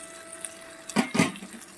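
Water pours into a pan of fried spice paste and tilapia for a fish curry, two short splashing gushes close by in a quiet kitchen.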